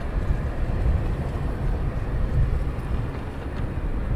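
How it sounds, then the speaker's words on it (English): A helicopter comes in to land at East Midlands Airport at night, heard as a steady, broad mechanical rumble that holds at an even, fairly loud level throughout with no voices. "I think that's the helicopter coming in right now."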